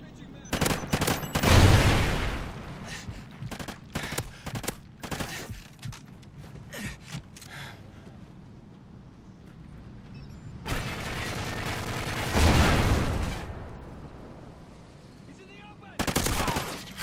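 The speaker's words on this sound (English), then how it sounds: "did I just kind of put 5 shots into that guy?" Rapid bursts of automatic gunfire in the shooter game Call of Duty Black Ops 2, loud, close clusters of shots broken by short gaps, with a longer rattling volley in the middle and faint voices underneath.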